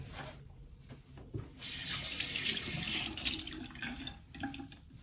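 Water runs from a tap into a jug, a quiet splashing stream that starts after a couple of soft clunks and flows steadily for a few seconds before tapering with small knocks.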